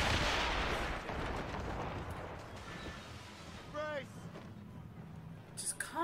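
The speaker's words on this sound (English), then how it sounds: "He's still firing mortars at us," Ship mortars and cannons fire during a naval battle in Assassin's Creed Rogue. There are loud booms and rumbling blasts, with whistling projectiles later on and a dense wash of battle noise around them.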